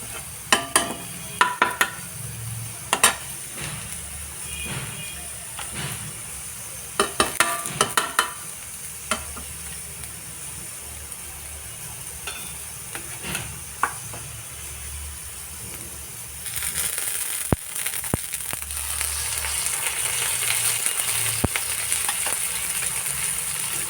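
Sidol, a dried fermented fish paste, fries with garlic in a pan, a steady close sizzle broken by sharp clinks and scrapes of a spatula, the hiss swelling louder toward the end, with no voices.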